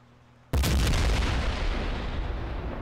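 A remote-detonated C4-style explosive charge in the military shooter Project Reality goes off in a single loud, sudden blast, followed by a long rumbling decay.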